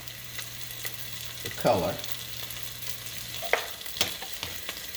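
Tomato paste and ginger sizzle in a pan for curry chicken, a steady frying hiss with occasional spoon stirs and scrapes, one louder stir near the middle, and a brief voice speaking over it.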